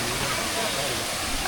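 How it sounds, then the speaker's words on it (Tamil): Tiger Falls at Courtallam, Tamil Nadu pours down in a loud, steady broadband rush of falling water, close and continuous with no break. "இதுதான் டைகர் ஃபால்ஸ் தான்."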